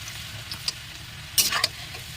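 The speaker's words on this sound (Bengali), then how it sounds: "দেখুন হালকা গোল্ডেন করে ভেজে নিয়েছি" Two chopped onions fried in a pan until light golden, giving a faint steady sizzle with a few brief scrapes and clinks of stirring, one louder scraping burst midway.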